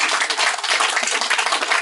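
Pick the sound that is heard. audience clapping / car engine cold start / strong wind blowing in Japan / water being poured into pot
audience clapping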